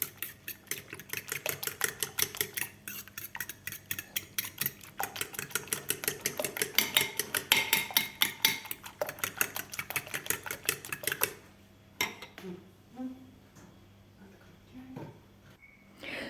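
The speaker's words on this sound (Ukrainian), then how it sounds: "І знову ж таки збиваємо." Rapid rhythmic clicking of a whisk beating eggs with salt against a bowl for several seconds, then stopping, followed by a few light taps and clinks.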